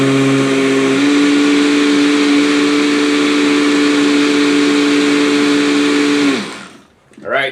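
A PBG-5050 personal blender with a glass jar runs loaded with greens, a loud steady motor whine that holds one pitch, then winds down and cuts out near the end.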